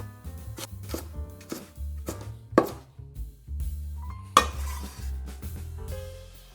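A knife chopping ingredients into strips and small cubes on a cutting board, with steady close taps in an uneven rhythm and a couple of sharper knocks, while a voice talks over it.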